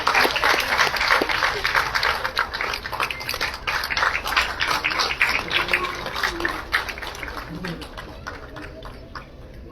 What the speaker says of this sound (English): A great round of applause for Sushmita.